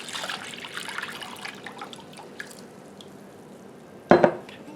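White vinegar pours into a pan for homemade dill pickle relish, a soft trickling stream in a quiet kitchen, ending with a sharp clink of dishes near the close.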